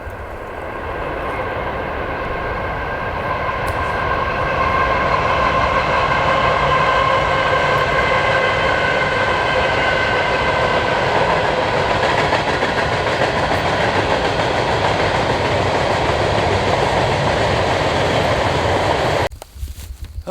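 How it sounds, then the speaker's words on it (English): A train rolls past close to a farm garden, a loud continuous rumble with rail clatter and tonal hum that holds for about twenty seconds before cutting off abruptly. "And there's a train coming"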